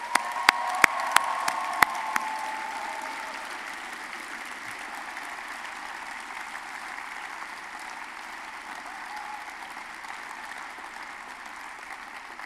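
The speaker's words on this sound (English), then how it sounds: "Can you all join me in giving a very sincere round of applause" Applause at a medical students' convention closing ceremony in Sydney, opening with a few loud nearby claps and then settling into a soft, diffuse crowd patter that fades gradually.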